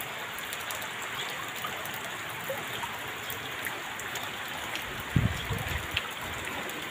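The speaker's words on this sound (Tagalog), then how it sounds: "patuloy pa rin ang pag-ulan." Steady rain with running floodwater, a constant broadband wash that stays even throughout, with a few brief louder splashes near the end.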